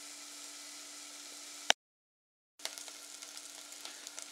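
Onions frying in a pan over moderate heat, a steady close hiss and crackle that cuts out briefly after a sharp click, then resumes with small pops, no talking.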